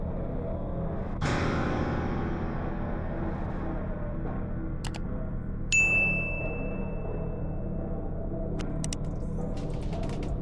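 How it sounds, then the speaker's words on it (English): A notification bell gives one bright, ringing ding over a steady low drone, followed by a few faint, scattered tinkles. "ring the bell so you never miss a video again."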